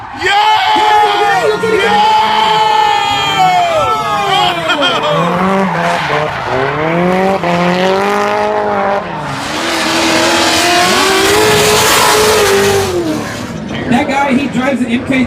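Nissan S14 drift car, right-hand drive, screaming through a clutch-kick initiation with loud engine revs and long squealing tire skids, close and continuous, with crowd whoops and voices over it.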